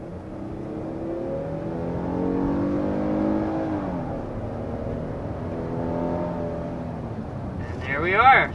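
A 2023 Kia Telluride with a 3.8-liter V6 accelerating hard toward 60 mph, its engine note climbing through rising gears with audible shifts, heard steadily from inside the cabin, with a brief chime near the end.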